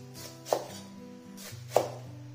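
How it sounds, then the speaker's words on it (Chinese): A knife chops Ma brand pickled mustard greens into chunks on a board, two distinct sharp chops about a second apart, close and clear, with a soft background hum. "准备一把妈妈牌酸菜，洗净后先把它的老根切掉，不要，再切块"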